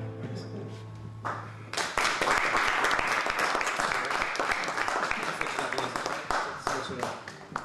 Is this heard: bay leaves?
no